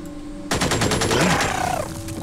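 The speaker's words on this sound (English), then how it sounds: "he should be able to get a single shot off" A sudden burst of rapid gunfire in the Xenonauts video game, a quick string of sharp shots that rings out loudly for nearly two seconds before trailing off.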